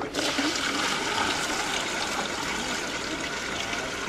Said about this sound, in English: most toilets have little jets in it, so the swirl direction is determined by the design of the toilet